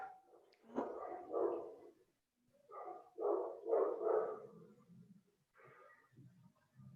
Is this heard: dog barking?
yes